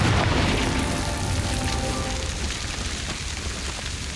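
A Confringo blasting spell detonating in the video game Hogwarts Legacy, a loud, rumbling blast that fades into a sustained crackling, rain-like roar with no talking.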